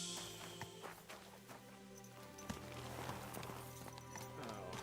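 Horse hooves clip-clop steadily in the medieval video game Kingdom Come 2, a continuous close walking rhythm over a dense ambient game soundscape, with no talking.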